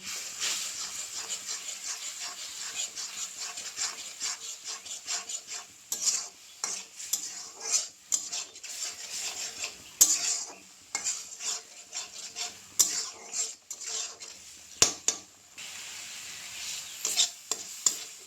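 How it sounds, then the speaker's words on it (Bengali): Ground cumin and coriander masala frying in a pan, with a steady oily sizzle and hiss under repeated scraping, clinking stirs of a spoon against the metal. "জিরে গুঁড়ো, ধনে গুঁড়ো দিয়ে ভালো করে মশলাটা ভাজি করে নেব।"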